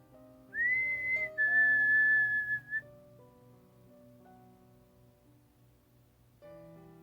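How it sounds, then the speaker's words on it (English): A single eerie human whistle rises and holds a long, pure tone, then breaks off into quiet, leaving soft low ambience behind. "The whistle beckoned to me again."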